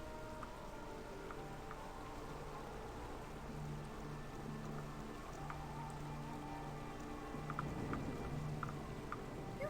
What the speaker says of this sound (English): Let's head on over there through the storm and the rain.